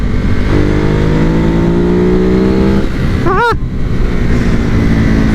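A 2014 Ducati Hypermotard SP motorcycle engine, loud and close, droning steadily, then rising in pitch under acceleration and dropping sharply on a quick gear change before pulling on again, with heavy wind rush throughout and no talk.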